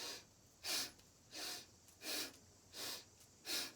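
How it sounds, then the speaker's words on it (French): Bhastrika yoga breathing, with five forceful breaths coming close and evenly spaced in a steady rhythm, each a sharp airy rush through the nose, separated by quiet pauses and no talking. "on va commencer un Bhastrika. Inspire et expire."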